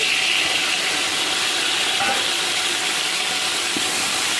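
Tomatoes tipped into onions frying in a pan for Andhra-style fish curry give a steady, loud sizzling hiss that runs unbroken throughout, with no voices.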